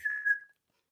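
A single short whistled tone, clear and steady for about half a second before cutting to silence, close and alone.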